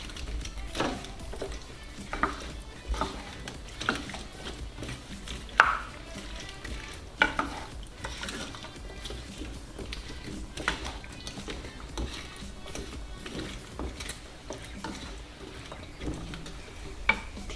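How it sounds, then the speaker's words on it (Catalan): Salt cod and potatoes being turned over in sauce in a pan, a soft sizzling bubble with scattered scrapes and knocks of the spoon against the pan, close and fairly quiet, with no talking. "Donem unes voltes, que quedi tot ben impregnat de la salsa."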